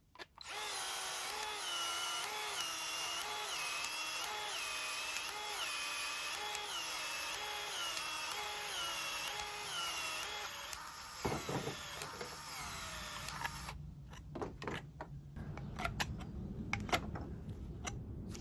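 Two cordless Milwaukee PEX expanders, the 2432 and the brushless 2532, work on 3/4 inch PEX A pipe. A loud, close motor whine rises and falls with each steady expansion pump, then gives way to clicks and handling noise.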